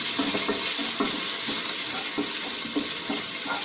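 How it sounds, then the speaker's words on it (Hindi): Crushed garlic and a piece of ginger sauté in a pan with a steady, fairly loud sizzle, broken by soft, irregular stirring scrapes and light clinks of the spoon; no one speaks. "हम इसे भी अच्छे से भून लेते हैं।"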